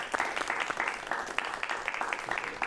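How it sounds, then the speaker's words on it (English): A small group claps in a loose, uneven rhythm, individual hand claps standing out as sharp accents, in a warm round of applause for actor Barlow Jacobs. "So a round of applause for Barlow Jacobs."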